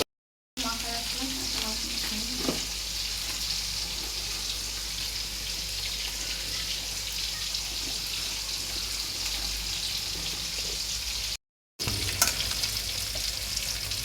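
Spices and tomatoes frying in a pan for biryani, a loud steady sizzle and crackle held close throughout, broken once by a brief silence before resuming with a stir.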